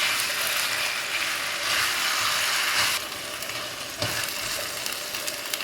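Chicken and potato fry in a pan with a steady, close sizzle while a utensil stirs and scrapes through them, giving a few sharper clacks; no talking.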